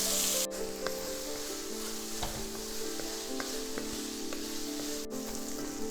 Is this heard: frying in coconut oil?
yes